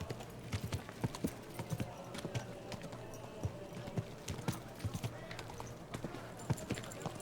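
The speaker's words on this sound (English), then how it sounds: "Am I fast enough on the horse to actually escape?" Rapid clip-clop of a horse's hooves galloping in a medieval video game, a brisk even rhythm of close thuds running steadily throughout.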